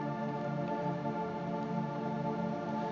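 Layered reverb pad swells pitched down into a soft, dense drone, sustained and hazy throughout at low volume with no voices.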